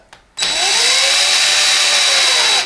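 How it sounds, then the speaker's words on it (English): A power drill whirs up abruptly and runs at a steady, high-pitched whine for a couple of seconds, close and loud, drilling into a soil pipe. "let's drill a hole"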